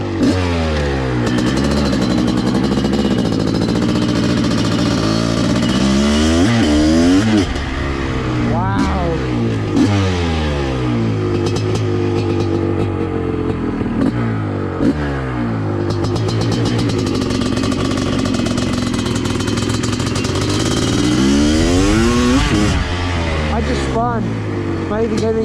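A Honda CR500 two-stroke motorcycle engine runs loud and close, rising and falling through repeated revs and throttle blips over a constant rough idle, while a voice speaks briefly over it.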